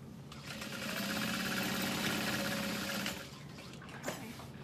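A sewing machine top stitches a bucket bag with a long-stitch setting, its motor whirring in a steady, rapid hum that swells for a few seconds and then stops, followed by a faint click, heard close and alone.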